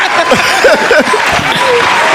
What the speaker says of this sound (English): round of applause today